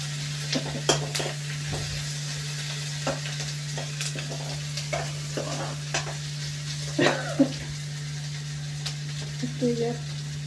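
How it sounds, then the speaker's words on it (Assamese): Chopped onions sizzle in a hot pan for an Assamese-style chicken curry, with steady frying hiss, occasional stirring scrapes and clinks of a spoon on the pan, and a constant low electrical hum underneath. "পিঁয়াজখিনি অলপ ৰঙা হ'ব লৈছে।"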